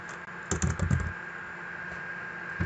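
A short flurry of computer keyboard typing, crisp close clicks in a quick cluster, then a pause and a few more keystrokes near the end, over a faint steady hum.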